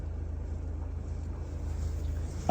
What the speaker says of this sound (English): You can still hear like the Subaru rumble a little bit.